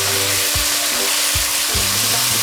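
Chili-infused coconut oil stirred into pork curry frying in a pan, a steady close sizzle with a few soft low thumps from the spoon breaking the hiss.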